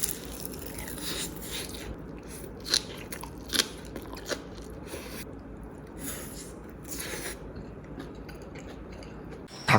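Crunchy bites and chewing of fried rice with sweet soy-sauce seasoning, crisp onion and tender slow-cooked meat, close and fairly quiet, with irregular crisp crunches over a soft steady background.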